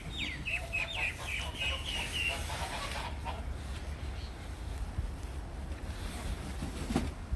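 Backyard chickens cluck and squawk during steady rain, their calls brief and moderately near over a constant wash of rainfall that continues after they fall quiet.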